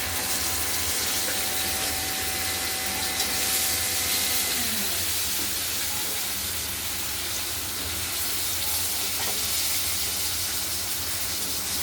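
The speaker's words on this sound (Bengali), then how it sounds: "এবার আলুগুলো দিয়ে দেবো, আলুগুলো ভেজে নেবো।" Potatoes frying in a pan for a spicy katla fish curry, a continuous hissing sizzle holding steady and fairly loud throughout, with no talk.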